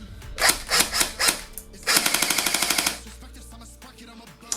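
An airsoft electric gun fires full auto in rapid mechanical bursts, a few short clattery volleys then a longer fast stuttering stream, close and loud, with a whirring motor tail.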